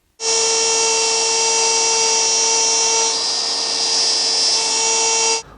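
Router fitted with a 1/8 inch downcut spiral bit and edge guide trims a shallow 3/32 inch edge on a wooden hall table top, a steady loud high-pitched whine running for about five seconds with no talk.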